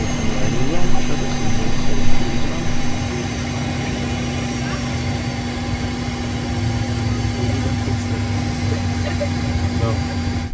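A Cessna Citation 550 business jet taxiing, its engines producing a steady, loud whine and rumble heard from inside the cabin, with crew voices talking over it throughout.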